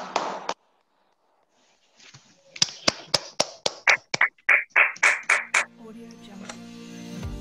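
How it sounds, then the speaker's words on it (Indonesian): A class claps hands in a rhythmic series of sharp, distinct claps that start after a short pause, growing steadier and louder before a lingering tonal sound closes it, with a voice briefly audible at the start. "kita tepuk tangan dulu untuk semua"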